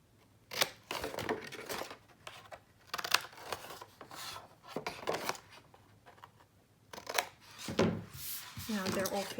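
Paper for a snowman gift box being cut with scissors, a series of quick, close snipping and rustling strokes that come in irregular bursts, with soft handling noises between them and no talking.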